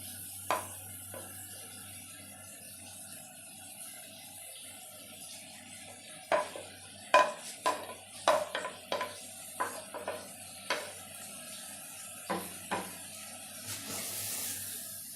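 Onions, tomatoes, green chilies and ridge gourd are stirred in a pan: a faint low sizzle is broken by irregular bursts of spoon-on-pan scraping and clatter, busiest in the middle and later stretches.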